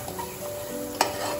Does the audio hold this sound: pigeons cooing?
no